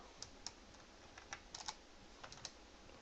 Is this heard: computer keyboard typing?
yes